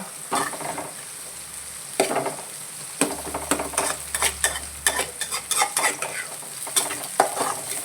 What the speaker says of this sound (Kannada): ಇಲ್ಲಿ ಕ್ಯಾರೆಟು ಕ್ಯಾರೆಟು ಮತ್ತು ಬೀನ್ಸ್ ಕಟ್ ಮಾಡಿಟ್ಕೊಂಡಿದ್ದೇನೆ ಮತ್ತೆ ಹಾಕ್ತೇನೆ ಸ್ವಲ್ಪ ಫ್ರೈ ಆದ ನಂತರ ಸ್ವಲ್ಪ ಮಿಕ್ಸ್ ಮಾಡ್ಕೊಳ್ಳುವ